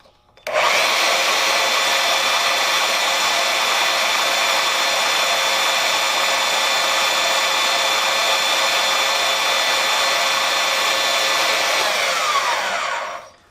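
A power saw runs at steady speed while wax is pressed against its spinning blade teeth, giving a continuous loud whine from start-up to shutdown with no voices.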